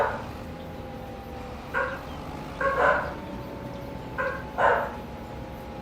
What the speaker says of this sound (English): I can't tell if Kuma's just barking because Emmy is barking